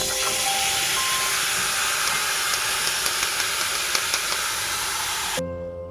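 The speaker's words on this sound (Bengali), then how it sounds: "এবার আমি আমগুলো কড়াইয়ের মধ্যে দিয়ে দিচ্ছি" Raw mango pieces drop into a hot wok for a Burmese-style mango pickle, giving a loud steady sizzling hiss that runs continuously for several seconds, then cuts off abruptly near the end.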